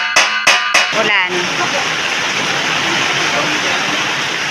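A few sharp knocks at the start give way to a steady, loud hiss of rain falling continuously.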